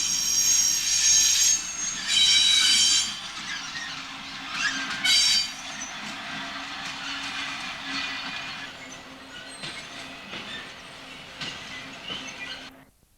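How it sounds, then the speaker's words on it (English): Coal empties freight train on the Rossington Colliery branch line, wagons rolling past with loud wheel squeal and clatter that fades gradually as the train moves away. "a train of coal empties for Rossington Colliery."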